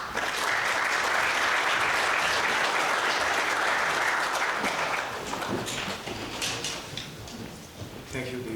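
Audience applause at a Hungarian hydrogen technology conference as the rector is invited to give the welcome speech: loud, dense clapping fills the hall for about five seconds, then fades under a voice beginning to speak.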